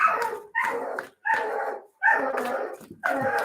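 A pet dog barks insistently indoors at close range, five loud, drawn-out barks spaced roughly evenly with short silences between them.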